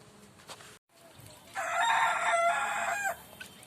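A rooster crows once, loud and drawn-out, in the middle, among farm birds including a black hen and a turkey at a forest site in Joypur, Bankura, with faint background ambience before and after.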